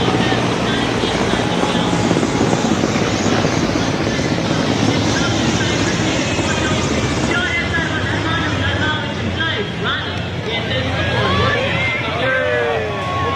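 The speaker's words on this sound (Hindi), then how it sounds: "the Indian Air Force Mi-17 one-way helicopters" Indian Air Force Mi-17 helicopters in formation over a Republic Day parade, a loud steady roar of rotors and engines filling the air, with crowd babble and commentary beneath.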